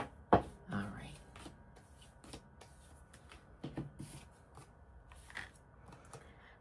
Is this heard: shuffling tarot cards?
yes